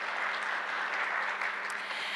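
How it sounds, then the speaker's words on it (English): A church congregation applauding after live piano music, a brief steady patter of clapping, fairly soft and even throughout. "we do encourage applause now so that we can hear that noise that we make here"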